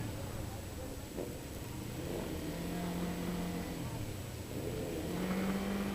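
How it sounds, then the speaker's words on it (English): Engine rumble of passing motorbikes fills the scene, with a steady drone and a rising rev near the end, over crowd noise. "There's a lot of motorcycles here."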